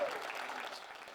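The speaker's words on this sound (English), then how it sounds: "give her a round of applause" Audience applause for a young Lakota dancer at a family traditions event, a steady wash of clapping that holds evenly through the short moment at moderate, slightly distant level.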